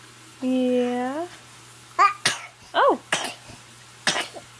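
A baby sneezes several times in short, sharp bursts, after an earlier drawn-out baby vocalization, all close to the microphone in a quiet room.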